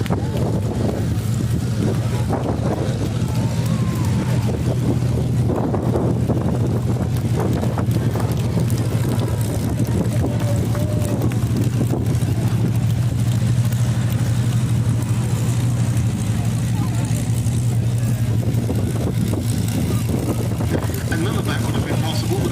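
Boeing B-17G Flying Fortress "Sally B" makes a passing salute at a Duxford airshow, its steady four-engine piston drone loud and continuous throughout, with wind noise over the microphone.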